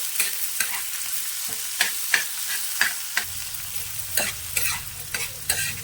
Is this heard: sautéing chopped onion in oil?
yes